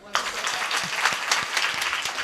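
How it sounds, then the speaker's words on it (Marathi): Applause from the gathering at a devotional kirtan starts abruptly and continues as a moderate crowd of clapping hands, with individual sharp claps standing out near by. "मग आता वाजवा टाळ्या."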